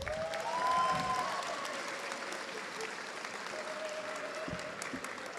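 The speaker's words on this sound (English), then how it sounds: "give them a round of applause" Applause for SkillsUSA members at the Aviation High School induction ceremony, a sustained crowd clapping from an audience that swells early and holds steady throughout, with a faint tone and a voice briefly under it.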